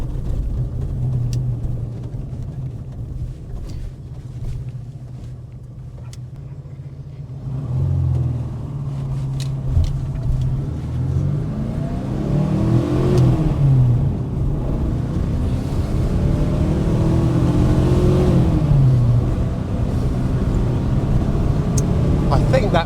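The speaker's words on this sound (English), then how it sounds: "let's take it through the gears and see how the little VW engine" A Porsche 914/4 with a small air-cooled VW engine accelerates up through the gears, rising engine tones repeating with each shift, loud and close from inside the car over steady road rumble.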